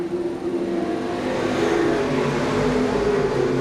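Race car engine roaring at Seekonk Speedway during a 1994 qualifying event, a loud sustained drone with a steady pitch that swells slightly as the car runs strong, with no voices.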